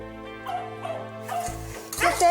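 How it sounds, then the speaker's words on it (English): Caged dogs, including Samoyeds, in a hot unventilated garage give short whimpers and yips close by, over a steady electrical hum, with a person talking. "Keeping dogs in cages in an unventilated garage where the temperature is around 28 degrees is totally unacceptable, so Karyn makes the call"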